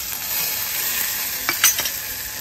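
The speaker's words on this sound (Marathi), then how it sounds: "इथे चालले कोळंबी मसाला, त्याच्यामध्ये तेल टाकून कांदा परतवलाय आणि टॅमॅटो" Onion and tomato fry in oil in a home kitchen for a Konkani-style prawn masala, a soft steady sizzle with a few sharp clinks and scrapes of a utensil against the pan near the end.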